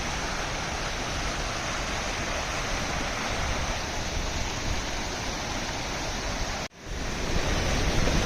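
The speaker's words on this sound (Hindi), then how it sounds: "देखिए पानी बहता हुआ।" Water tumbling along a stream below the Sajla waterfall, a dense, close, unbroken roar with a brief dropout near the end before the rush resumes at full strength; no voices.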